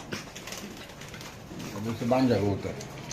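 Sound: pigeons cooing at a pigeon farm

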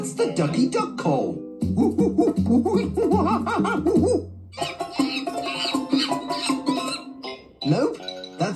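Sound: cartoon character imitating a monkey call

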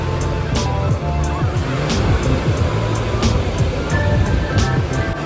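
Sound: waves on a rocky beach in the South of France

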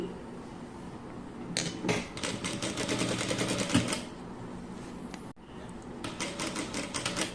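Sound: sewing machine stitching

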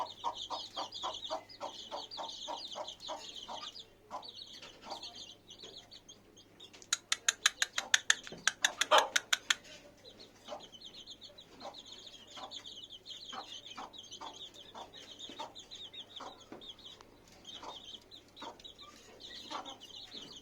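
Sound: hen clucking with frizzle-feathered chicks

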